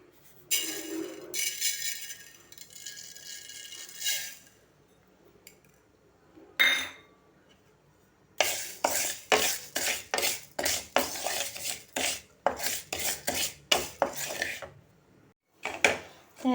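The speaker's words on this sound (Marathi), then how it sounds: "ही एक चमचा तेल घालून मेथी भाजून घेते" Fenugreek seeds roasting in a spoonful of oil in a pan, stirred with a metal spoon: close, loud scraping and clinking strokes, a few separate bursts early, then a steady run of rapid rhythmic clatter against the pan.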